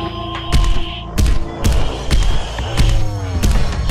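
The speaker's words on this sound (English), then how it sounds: "when you hear that thumping and you hear that music, you know Mr. X is on your tail" Heavy thumping footsteps of the stalker Mr. X in the Resident Evil 2 Remake video game, loud booming thuds in a slow regular stride of about eight steps over a tense musical drone.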